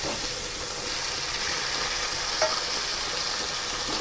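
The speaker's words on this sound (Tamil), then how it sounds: "கருவேப்பிலை சேர்த்துட்டு இப்போ நம்ம தக்காளி சேர்த்துக்கிடலாம்." Tomatoes and curry leaves sauté in a pan, giving a steady, fairly loud hiss of frying oil close by with a faint single clink partway through, no voices.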